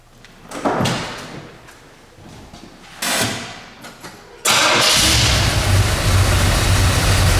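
A few clunks and scrapes are followed by a 1972 Chevy Nova engine cranking and catching, then settling into a loud, steady rumbling idle through a new dual exhaust.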